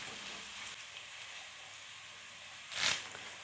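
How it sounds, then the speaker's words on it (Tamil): Ground cinnamon and fennel fry in hot oil with a steady soft sizzle and hiss, capped by one brief louder sputtering burst near the end. "பொடி பண்ணி வச்சுருக்கிற பட்டையும் சோம்பும் இதையும் இந்த எண்ணெயில் போட்டுக்கலாங்க"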